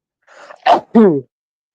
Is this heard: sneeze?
yes